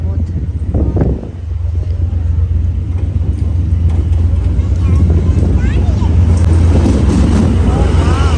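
A passenger train pulls into a railway station on a journey through Punjab, its low rumbling roar building steadily and loud up close amid wind and crowd noise.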